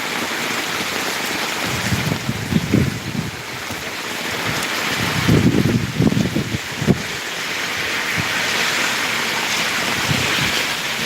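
Rain falls steadily on Dhotian village in the Tarn Taran area of Punjab, a continuous broad hiss with a few heavier low patters rising and fading.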